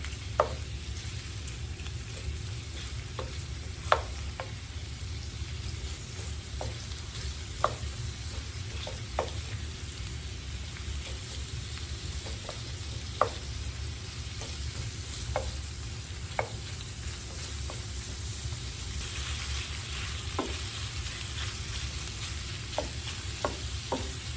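Shrimp fry in a skillet beside salmon for a garlic butter dish, giving a steady, fairly quiet sizzle with scattered sharp pops and occasional utensil taps over about twenty-four seconds.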